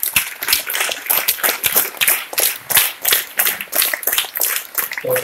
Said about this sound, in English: So big applause to everyone.